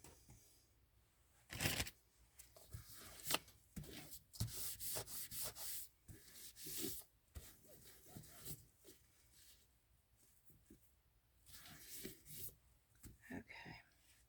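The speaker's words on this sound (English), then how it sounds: "I'm going to have to sand that off because before it's sealed, that stuff just sucks" Sanding of cured ceramic resin on a DIY Halloween pumpkin, heard as short bursts of scratchy rubbing and abrasion in uneven strokes with pauses, close and fairly quiet.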